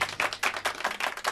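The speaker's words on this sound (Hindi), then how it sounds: "जोरदार तालियां बाबूदा के लिए।" An audience gives a round of applause for Babuda during a Hindi radio show, a brief burst of close, uneven hand clapping with no voices over it.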